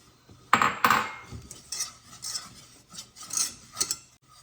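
A spoon clinks and scrapes against a dish while tablespoons of an ingredient are scooped for a creamy chicken and wild rice soup, with a sharp clatter at first and then a few lighter scrapes and taps, close up.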